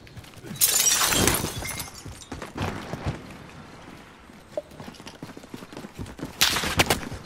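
Gunfire in Call of Duty: Modern Warfare, with sharp bursts of shots and shattering impacts scattered through the stretch, loud crashes near the start and the end, and quieter pops and game noise between.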